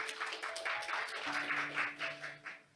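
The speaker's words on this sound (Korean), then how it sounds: "박수 부탁드리겠습니다" Scattered hand clapping from a room of people at a research presentation and forum, fairly faint, with a few sustained tones running beneath.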